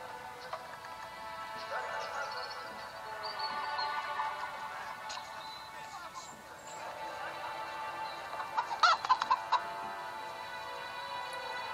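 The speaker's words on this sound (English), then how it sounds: "Chicken!" A chicken clucks in the video game Assassin's Creed 3 Liberation, short clustered clucks near the end over a dense ambient game background with faint voices.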